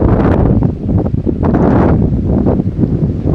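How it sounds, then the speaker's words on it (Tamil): Strong wind buffets the microphone in loud, roaring gusts at Kovalam Beach in Kerala, with a faint wash of Arabian Sea surf in the background. "பயங்கரமாக காற்றடிக்குதுங்க"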